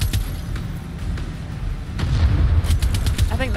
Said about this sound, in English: use the missile launcher